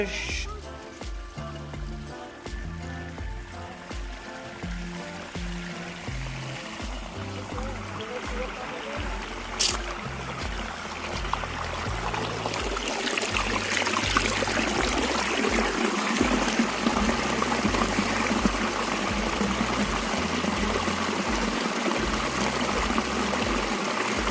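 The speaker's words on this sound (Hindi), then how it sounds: "यहाँ पर झरना है दोस्तों, पानी का झरना" Water rushes steadily over a waterfall at Katti Kere lake in Jamkhandi, a constant hiss and splash that swells louder partway through, with a voice talking over it.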